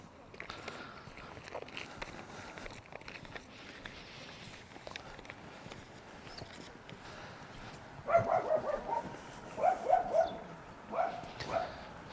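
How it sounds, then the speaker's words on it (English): Several dogs barking from behind fences in a Perth, Western Australia suburb, distant and faint at first, then a cluster of sharper barks and yips in the latter part over soft footsteps. "A few dogs barking"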